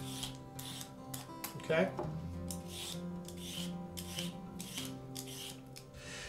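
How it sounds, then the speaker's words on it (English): Carrots being peeled into long strips with a peeler: steady, repeated rasping strokes close by, one louder scrape in the middle, with a brief spoken word. "the way I like to peel carrots is I cut the ends off first, and then I peel them in one nice long strip"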